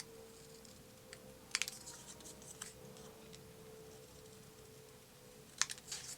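Scissors snipping through a paper photo print, two sharp crisp cuts about four seconds apart with faint rustling between, close and quiet over a steady low hum.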